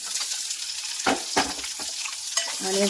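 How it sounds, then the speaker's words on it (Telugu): Onions frying in a pan on low flame, with a steady close sizzle broken by a few stirring scrapes and clatters, and no voices. "ఆనియన్స్ ఫ్రై అయిపోయాయండి"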